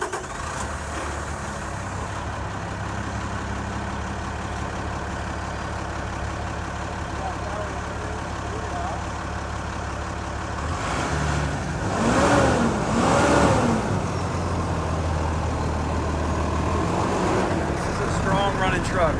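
A 2016 Peterbilt 337 crane service truck idles quietly for a while. Then its engine cranks and catches with a brief louder burst and settles into a steady, low running rumble.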